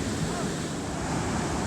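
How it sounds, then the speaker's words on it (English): Big ocean surf rolls and breaks along the beach at Pismo, a dense continuous roar mixed with wind buffeting the microphone. "See how the waves are moving in this direction now?"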